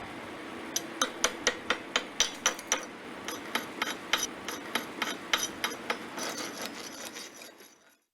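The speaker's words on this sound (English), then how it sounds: "Once the bead has been deposited, remove the slag and examine the bead's appearance." Slag being chipped off a freshly deposited weld bead, a rapid series of sharp metallic taps and scraping rasps, fairly close and steady, with no talk.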